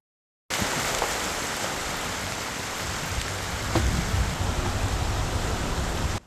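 Heavy afternoon rain pouring during flooding around the Dharmapala roundabout and municipal grounds in Nuwara Eliya, a dense, loud, steady hiss of downpour that starts abruptly and holds without speech.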